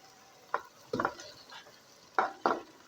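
Two kilograms of chicken is added to frying masala in a pot, with a few distinct stirring scrapes and clacks at irregular intervals over a faint sizzle, close and quiet.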